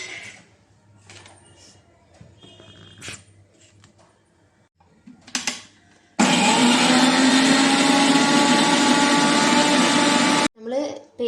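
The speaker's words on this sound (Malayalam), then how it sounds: "ഇതെല്ലാം കൂടി മിക്സിയിലിട്ട് നന്നായിട്ട് പേസ്റ്റ് പോലെ അരച്ചെടുക്കണം." An electric mixer grinder blends green chillies, curry leaves and coriander into a paste, a loud continuous whirring roar for about four seconds, preceded by quieter kitchen handling and talk and cut off abruptly.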